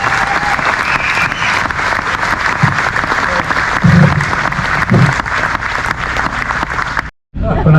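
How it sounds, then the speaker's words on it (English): Crowd applause at a bass fishing Hall of Fame ceremony at Lake Mohave, a loud, continuous wash of clapping that holds steady with a brief dropout near the end. "Round of applause for Rick Clunt"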